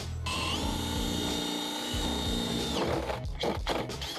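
Powerful drill whining steadily as a 22mm bit bores through a house wall during an EV charger installation, loud and continuous, then sputtering into uneven bursts as it breaks through near the end.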